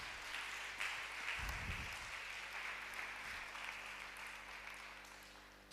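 A church congregation applauds Jesus during a French-language sermon, a steady, diffuse wash of clapping from a crowd that holds at a fairly even level throughout, with a brief low thump partway through.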